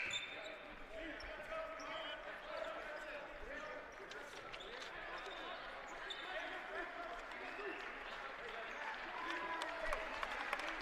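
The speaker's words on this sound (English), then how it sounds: "And applause for Penny, Hamilton, and Marlowe and Zoski" A crowd at a college men's basketball game, Pacific Lutheran against Carroll, applauds steadily as players come to the bench. The clapping is dense and moderate, mixed with arena murmur and faint talk.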